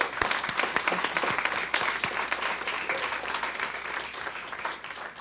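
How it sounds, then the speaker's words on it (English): An audience at an aviation institute family night applauds a panel, giving dense, continuous clapping with a crowd-like wash that slowly fades over several seconds. "Let's please give our panel a big round of applause."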